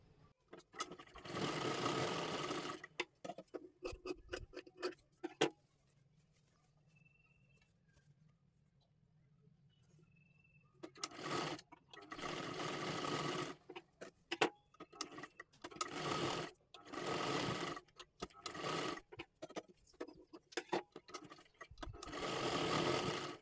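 Sewing machine stitching a dress made from a silk-bordered saree, running in several bursts of steady rapid needle clatter with a quiet pause midway, close and loud.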